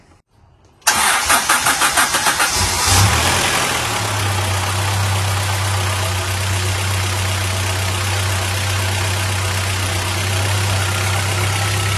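A car engine cranks with a rapid rhythmic churn for about two seconds on a cold start, then catches and settles into a steady, loud idle that runs alone to the end.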